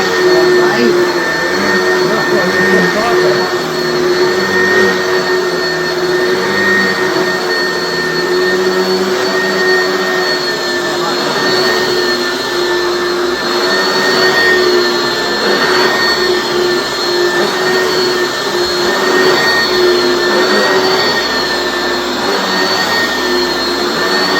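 A pink-edition Oreck XL5 upright vacuum cleaner runs on carpet with a loud, steady high-pitched motor whine and airy roar, close by and unbroken throughout.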